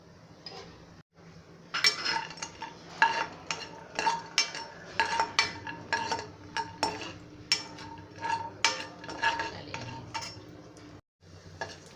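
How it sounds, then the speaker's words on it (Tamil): Cashews roast in ghee in a pan while a spoon keeps stirring them, producing repeated close metallic scrapes and clinks in an uneven rhythm over a faint sizzle. "காஜு இது வந்து ப்ரௌனிஷ் கலர் வர வரைக்கும் நல்லா வந்து வறுத்துக்கிடணும்."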